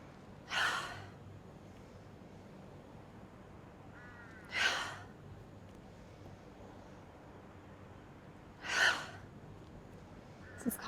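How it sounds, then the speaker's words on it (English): Three loud, forceful breath bursts during a breath of joy yoga breathing exercise, each a sharp exhale blown out through the mouth, spaced a few seconds apart with quiet room tone between. "This is called the breath of joy."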